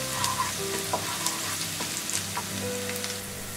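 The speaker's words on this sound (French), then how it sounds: "Quand l'huile est bien chaude, je mets l'ail haché." Chopped garlic spits and sizzles in a pan of hot oil, a steady close crackle with faint scattered clinks and stirring sounds and no voices.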